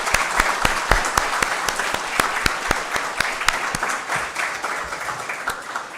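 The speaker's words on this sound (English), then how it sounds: "Let's give all our young people another round of applause." Audience applause at a city council meeting honouring young people, a steady wash of many hands clapping with sharp individual claps standing out, filling the room continuously and fairly loud throughout.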